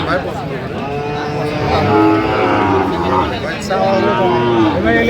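Sahiwal cattle and calves mooing repeatedly at a busy livestock market in Noakhali, long drawn-out lows close by over a steady crowd murmur, with people talking throughout.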